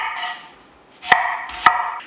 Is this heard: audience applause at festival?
no